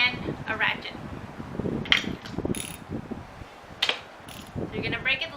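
Ratchet with a 16mm spark plug socket and extender working a spark plug loose on a B18 Acura Integra engine, several short clicking ratchet bursts close up, separated by pauses, with a voice speaking in between.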